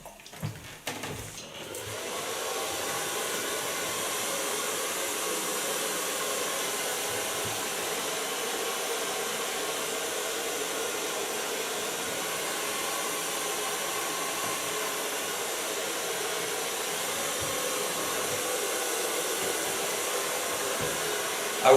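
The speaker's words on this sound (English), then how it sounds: "Now I'm going to blow dry this hair" A hair dryer blows on freshly bleached short hair, a steady close whooshing roar that starts after a brief rustle and holds evenly for about twenty seconds with no talking.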